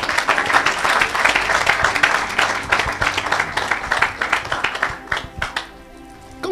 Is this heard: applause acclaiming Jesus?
yes